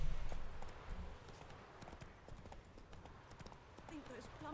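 Horse hooves clip-clop steadily in The Witcher 3, a regular rhythm of fairly close hoof strikes running through the whole stretch alongside game ambience, with talk heard at points.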